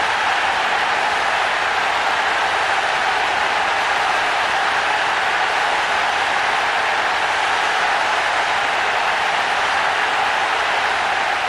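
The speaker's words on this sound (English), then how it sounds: "It's not a great crowd, but they are making themselves heard." A stadium crowd in Pro Evolution Soccer 4 roars without pause, a dense, loud wash of cheering and applause-like noise that never lets up.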